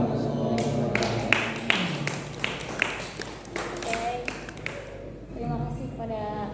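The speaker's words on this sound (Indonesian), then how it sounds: "Sekali lagi kita tepuk tangan buat kedua pemateri kita kali ini." Audience clapping for two presenters at an Indonesian Islamic education talk, a steady patter of hands running throughout with talk over it.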